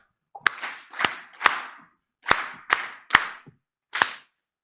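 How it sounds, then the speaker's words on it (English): Seven sharp, synchronized group claps ring out in a rhythmic pattern with short gaps, an audience's signature welcoming clap at an Africa Public Service Day event, each crack echoing in the hall. "let's welcome her with our famous clap"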